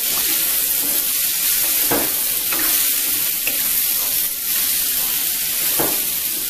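Yellow pumpkin cooking in a pan, a constant loud frying hiss with a few soft scrapes as it is stirred, close and without talk.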